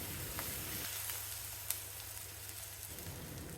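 Pounded onion and garlic sauté in oil for a village-style puli kulambu, giving a soft continuous sizzle with a low hum running through the middle and one small tap partway through.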